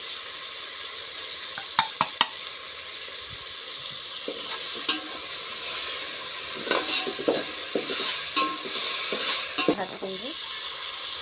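Spiced amla gooseberry masala sizzles and fries in a pan while a spoon stirs and scrapes it in uneven strokes, close and continuous, and a voice speaks briefly.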